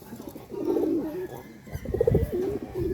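Pigeons cooing nearby, two soft throaty bursts of low rolling coos with a short pause between them, alone without talk.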